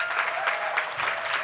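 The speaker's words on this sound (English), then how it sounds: "ask Ms. Washington and her team to stand up and give them a round of applause" Audience applause at a violence prevention conference general session, a steady wash of clapping from a seated crowd, moderately loud and without talk over it.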